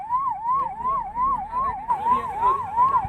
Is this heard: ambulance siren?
yes